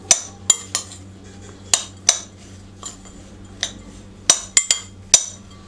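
A spiced potato filling with salt and roasted cumin powder being mixed in a bowl, sharp metallic spoon clinks against the bowl at irregular intervals over soft background hum.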